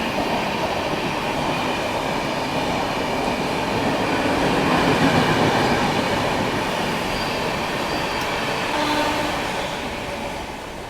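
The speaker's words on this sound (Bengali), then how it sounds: "আমাদের ট্রেনের সাথে সাথে দেখে নাও হাওড়া যাওয়ার লোকাল ট্রেনও প্যারালালি ছেড়ে দিয়েছে।" A local train pulls out of Panskura Junction alongside a Howrah-bound local, giving a steady, loud rolling rumble of wheels and carriages with a rising and easing swell and faint high rail squeal throughout, with no voices.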